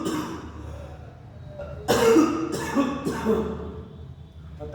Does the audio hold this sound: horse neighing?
no